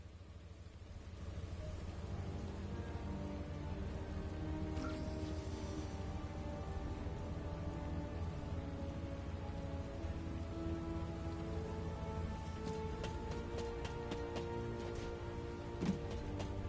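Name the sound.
rain falling in a video game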